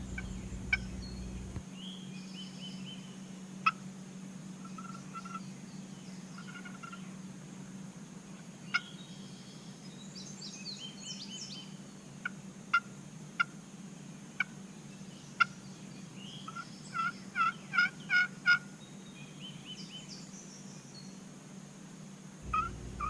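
Wild turkey hen calls over quiet outdoor ambience in Ohio spring woods: scattered single notes, then a quick run of rhythmic yelps, soft and somewhat distant.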